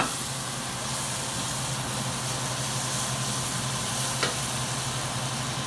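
Clams cooking in plenty of oil in a small pan, giving an even, continuous close sizzle and hiss with a single faint tap partway through, no talking.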